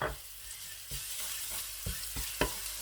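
Garlic paste sizzles in a pan with light-brown fried onions for chicken gola kabab pulao, a close, steady frying crackle broken by a few sharp stirring clinks and scrapes.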